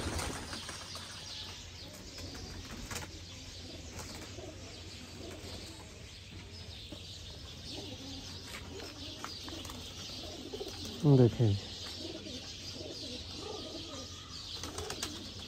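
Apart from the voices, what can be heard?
pigeons cooing and flapping wings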